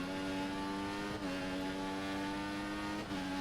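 An F1 2014 race car engine holds a strong, steady harmonic whine, dipping briefly twice as gears shift, then climbing again while accelerating out of a corner.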